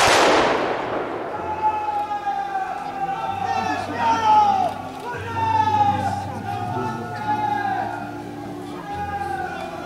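Gunfire and bangs from a Legion infantry attack at a reenactment of the battle of Krzywopłoty, heard through smoke amid a crowd's chatter, with someone narrating loudly over the continuous noisy scene.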